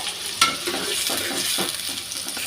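A full bowl of chopped onions fries in mustard oil for a duck and bean seed curry, giving a steady close sizzle with a sharp scrape of a utensil near the start and soft stirring after.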